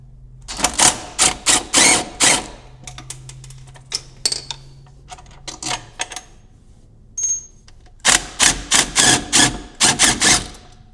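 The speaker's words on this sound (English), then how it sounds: "And these are through bolts with 13 millimeter nuts on the back, so you wanna have another ratchet with a 13 on the back." A hand ratchet works 13 mm nuts on the shock through-bolts of a C5 Corvette, clicking in rapid bursts of ratcheting strokes separated by pauses, close and loud with no talking.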